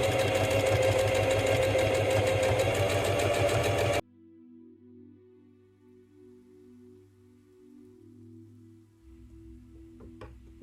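A sewing machine runs fast and loud while stitching straight quilting lines, then stops abruptly, leaving only faint low hums and a few small clicks.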